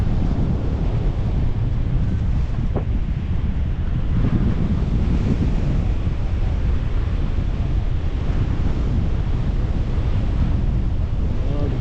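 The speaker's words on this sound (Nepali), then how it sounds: "दाइलाई त अझै हावाले तान्दैछ उड्ने हो" Strong wind buffets the microphone on a hillside above Pokhara, a steady, loud roaring rush that fills the whole clip without letup, with no clear talk over it.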